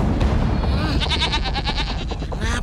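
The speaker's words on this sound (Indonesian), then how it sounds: "Hei Gendono, jangan makan kambing-kambing itu." Goats bleat in an animated legend, wavering cries layered under a loud, busy soundtrack with low rumbles, the bleats pulsing in quick succession near the end.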